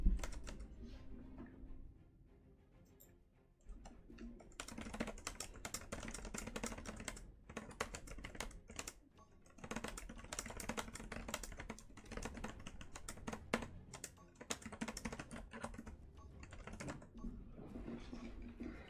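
Fingers clatter across a computer keyboard in quick, uneven bursts of typing with short pauses, close to the microphone and fairly quiet, with no one speaking.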